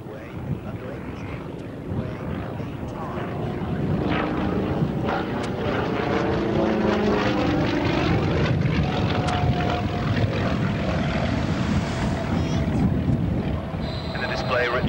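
A display aircraft flies at the 1991 RAF Valley airshow, a steady loud propeller-engine drone that builds and holds throughout, with a commentator speaking over a public address and radio chatter underneath.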